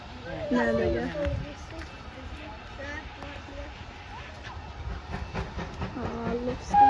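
A train rumbles by with a steady mechanical roar and faint rhythmic clatter, while people talk over it nearby.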